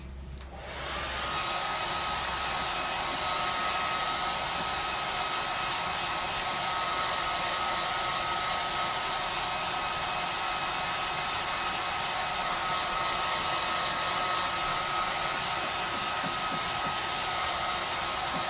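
A hair dryer blows steadily on a painted wooden pumpkin, its loud continuous whirring airflow running alone and unbroken after a brief start.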